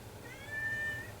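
A house cat meows once, a drawn-out, fairly close call heard alone against a quiet indoor background.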